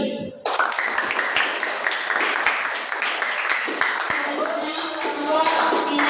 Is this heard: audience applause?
yes